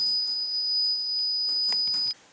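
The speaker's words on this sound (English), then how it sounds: "An alarm is triggered which ceases only if an" A shrill, continuous electronic security alarm from a smart key lock is set off after repeated wrong key attempts. It sounds as a single loud, steady high tone for about two seconds, then cuts off abruptly.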